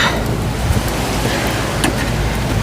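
Rain comes down outdoors during an auto repair job on a 2015 vehicle, a dense steady patter with scattered heavier drops and a low rumble beneath, loud and close.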